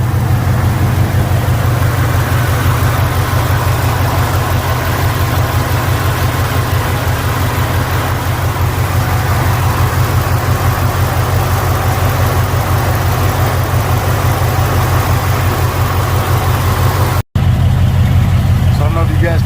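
A truck engine idles steadily and loudly at close range, just run after being dropped back in with low oil, a slight tick in its rhythm, with a brief cut near the end.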